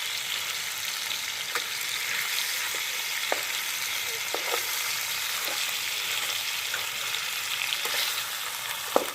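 Pieces of tandoori chicken sizzle steadily in a pan after being flipped, a dense, even frying hiss broken by occasional small pops and clicks.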